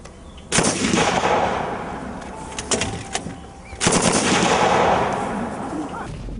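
Loud bursts of gunfire crack out in quick volleys on a film set, with booming explosive blasts that echo and roll away between them.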